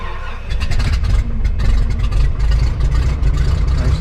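An aircraft piston engine starting up, catching abruptly after a short cranking whir and then running at a loud, steady idle with a rough throbbing rumble, close by.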